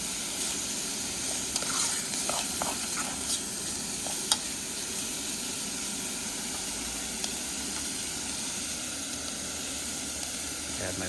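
Breakfast sausage seasoned with sage and smoky bacon frying on a camp stove, a steady soft sizzle and hiss with a few small pops and clicks, no talking.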